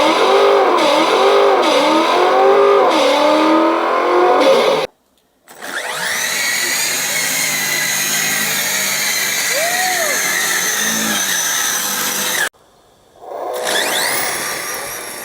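A small electric RC car motor whines loudly at high pitch, rising and falling as it revs in bursts, with two short pauses between runs.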